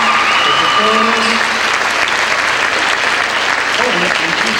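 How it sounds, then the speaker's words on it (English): Loud, sustained audience applause at the 2003 Miss Tri-Cities scholarship pageant, with voices and tonal sounds carrying over the steady clapping throughout. "let's give the ladies another round of applause"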